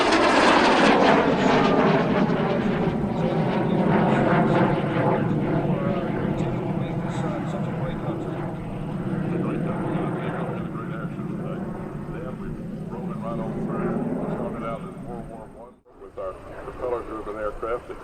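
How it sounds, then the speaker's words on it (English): A Lockheed T-33 jet roars past at an air show, a loud sustained engine drone that slowly fades then swells again, heard under continuous talk over a public address. "here we've got the T-33 at Air Show Center"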